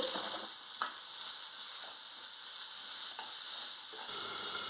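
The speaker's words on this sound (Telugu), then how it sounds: "ఒక్క నిమిషం ఆనియన్స్ బాగా పచ్చివాసన పోయేంత వరకు వేయించుకోవాలి" Onions with curry leaves, turmeric and salt fry in a pan, giving a soft, steady sizzle with a few faint stirring clicks, close by, and no voices.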